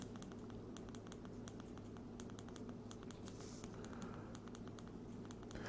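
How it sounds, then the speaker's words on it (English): A Zebralight flashlight's tail button pressed in quick repeated clicks while it is being programmed, making faint, crisp ticks in short bursts over a low, steady background hum. "Now I'm going to triple click 3 times to go down."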